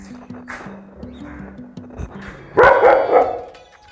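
An aggressive, rough-tempered dog gives a sudden loud burst of barking near the end, after a stretch of low, quieter sounds close by.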